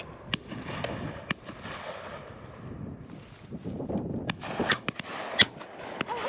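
Shotgun shots fired at pheasants on a driven shoot, several sharp reports spaced irregularly, some near and loud, others more distant, over outdoor background noise with no talking.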